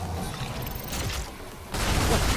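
Gunfire in the PS5 action game Stellar Blade comes as harsh rapid bursts of noise, loud and dense, with a short lull before another heavier volley.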